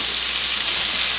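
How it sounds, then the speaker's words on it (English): Sausage, peppers and onions cooking in a pan with thyme and red pepper flakes, giving a steady, loud, close sizzle of frying with no pauses and no voices. "so they can cook up along with the onions and the peppers and sausage"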